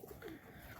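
A Naira pigeon, one of a newly bought pair, gives a brief, very faint, soft coo, heard close and alone.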